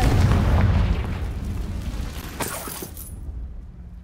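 A Confringo fire-blast spell explodes in Hogwarts Legacy, starting with a loud, heavy boom that rumbles and slowly fades, then a few sharp crackling bursts before the sound dies away to near silence.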